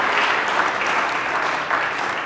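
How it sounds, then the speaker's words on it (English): A crowd at a Convention of States event at the Ohio Capitol claps steadily, a brief wash of applause heard throughout. "we need to give Steve a huge round of applause"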